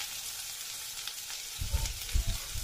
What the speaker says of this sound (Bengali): তো চলো মাছ ভাজা হোক